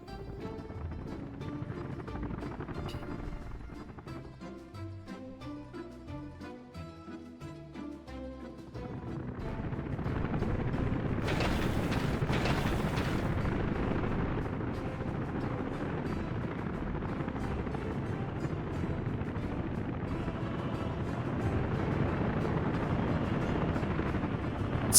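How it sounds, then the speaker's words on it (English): Helicopters in the city-building game Workers & Resources drone steadily, a continuous rotor rumble that thickens and grows louder partway through, with earlier game sounds fading beneath it. "So loud with all the helicopters, like living in the city must be hell."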